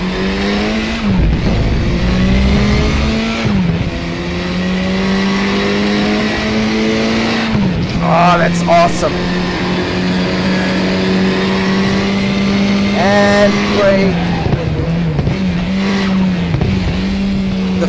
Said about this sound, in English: that engine sound is amazing